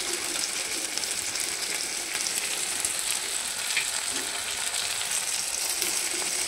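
Chili and salt drop into a pan where poa bhola fish curry is frying, producing a steady, close, loud sizzle that holds evenly throughout with no talking.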